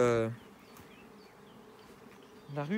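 Honeybees buzz steadily at a strong hive with a three-year-old queen, a low continuous drone through the middle, with voices talking briefly at the start and end.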